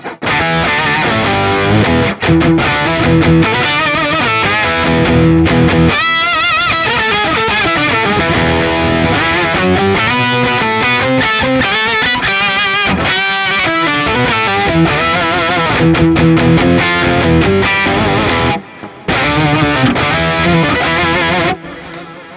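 Heavily distorted electric guitar through the Plini X amp plugin in fuzz mode, thick fuzz tone playing riffs and chords continuously, loud and close, with a brief gap near the end.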